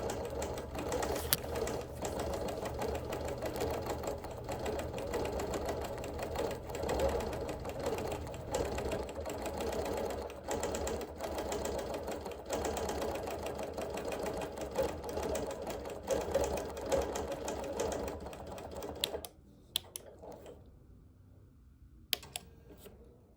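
A sewing machine stitches steadily for about twenty seconds, outlining background quilting around appliqué and embroidery, with a close, continuous mechanical whir and rapid needle rhythm before stopping and leaving a few faint handling clicks.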